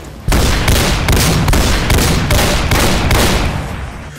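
Shotgun in the Half-Life 2 Overcharged mod firing about nine loud, close blasts in rapid, steady succession, each a sharp broadband boom that runs into the next, with no talking.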